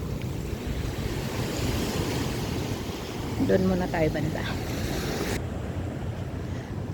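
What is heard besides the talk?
cold wind blowing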